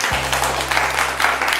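Audience applause for the singer at a Senco jewellery store anniversary family contest event, steady clapping from a small crowd throughout, with a low steady hum underneath.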